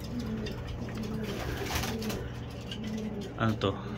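Pigeons coo steadily in a breeding loft, low repeated throaty calls overlapping, with a louder nearby coo near the end and faint talk in the background.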